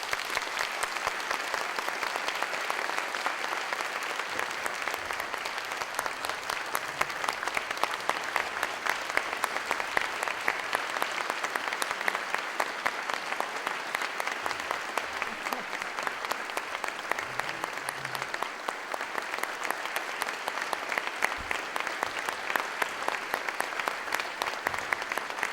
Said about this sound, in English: I'd like to ask you all to give my mother a round of applause